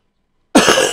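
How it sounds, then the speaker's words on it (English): A single harsh cough bursts out close to the mic after half a second of silence, loud and abrupt, with no talking. "I'm going to start coughing."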